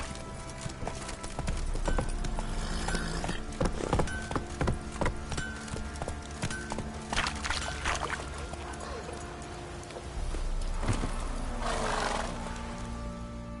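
Roach the horse in The Witcher 3 gallops with steady rhythmic hoofbeats that go on throughout, and a neigh and snort come near the end, close and moderately loud, with occasional voices under them.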